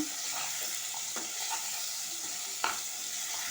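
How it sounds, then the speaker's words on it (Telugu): Fried ivy gourd being stirred into a sizzling curry in a pan. The sizzle hisses steadily, with soft spoon scrapes and one sharper clack of the utensil against the pan, and no voices. "వేసుకొని ఇలా కలిపేసుకోవాలన్నమాట"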